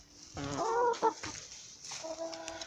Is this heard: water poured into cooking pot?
no